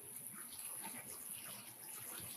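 Water runs steadily from a kitchen tap while something is washed under it, a continuous close splashing hiss with a high constant tone above it, moderately loud and heard without talk.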